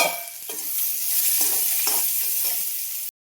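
Onion sizzles loudly in hot oil in a kadai with mustard seeds, black urad dal, fennel, cumin and asafoetida, with a few scraping stirs cutting through the steady frying hiss before it stops abruptly.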